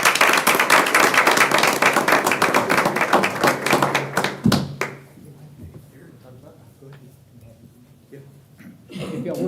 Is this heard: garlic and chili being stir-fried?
no